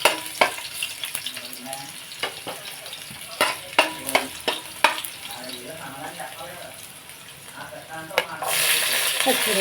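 Peanuts and garlic fry in oil in a pan, a continuous crackling sizzle broken by repeated sharp scrapes and clatters of stirring, close and fairly loud.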